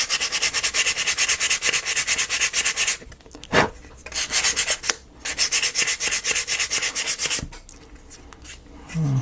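A piece of sandpaper is rubbed by hand over a build surface in quick back-and-forth strokes, a close, loud scratchy rasp in bursts broken by short pauses and a few knocks.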